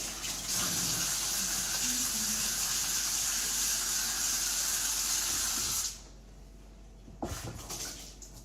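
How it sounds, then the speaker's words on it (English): Water runs steadily from a tap for about six seconds as hands are washed, a broad hissing gush that then cuts off, followed by a short clatter. "Just wash my hands a little bit."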